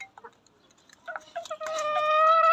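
Chickens cluck and squawk close by while eating biryani scraps, scattered short clucks building into a loud sustained call at the end.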